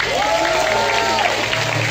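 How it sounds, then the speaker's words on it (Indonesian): Crowd clapping and some cheering during a Balinese drama gong comedy performance, a continuous loud wash of applause with a sliding voice-like tone rising and falling above it. "Tepuk tangannya dong."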